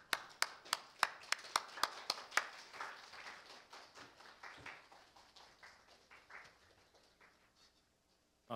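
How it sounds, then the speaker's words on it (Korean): A lecture audience welcoming a materials science professor: a few loud, distinct claps ring out at first, then blur into softer scattered applause that steadily thins and fades away. "모두 박수로 맞이해 주십시오."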